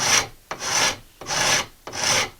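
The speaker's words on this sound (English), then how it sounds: "I recommend you do most of this with the rasp" Hand rasp working a wooden boomerang blank held in a clamp, with four long, forceful rasping strokes in a steady back-and-forth rhythm, close and loud with short pauses between strokes.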